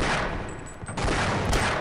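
Rapid gunfire in the shooter game Half-Life crackles as dense, loud overlapping bursts with no pauses, a brief dip in the middle, then continuous shooting again.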